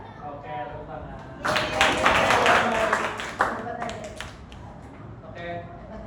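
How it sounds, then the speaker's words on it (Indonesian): Students at an aquatics swimming lesson clap their hands in a short burst of fairly close clapping that swells in the middle and fades, with voices speaking around it. "Oke, tepuk tangan."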